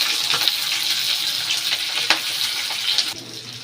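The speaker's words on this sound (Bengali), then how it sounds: "হালকা নুন দিয়ে এগুলো একটু ভেজে নিলাম, পেঁয়াজ, ক্যাপসিকাম আর রসুন।" Onion, capsicum and garlic fry in a little oil with light salt, giving a close, steady sizzle with faint stirring clicks; no one talks.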